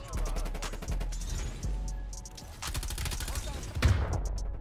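Rapid automatic gunfire bursts in the video game Call of Duty Cold War with an LC10 loadout, loud and near, with sharp impacts and brief pauses between volleys.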